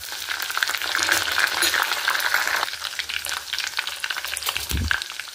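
Chana dal, mustard seeds, dried red chillies and curry leaves frying in hot oil as a tempering for pongal, a steady close sizzle with stirring scrapes and no talking.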